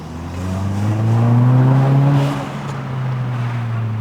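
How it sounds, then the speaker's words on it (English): An Audi TT with an aftermarket air intake, Race Chip and custom exhaust revs up and accelerates, a steady low drone rising in pitch and loudness, then easing off slightly while still running. "As you press the gas, the car just moves like this."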